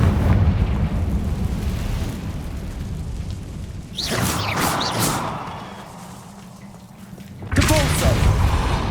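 Confringo blasting spell from Hogwarts Legacy erupting in loud booming bursts, one in the middle and another near the end, over a constant rumbling backdrop.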